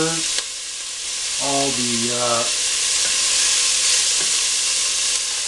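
Onions, carrots and red and green peppers sizzle and fry in a pan with a steady, close hiss while someone talks over it.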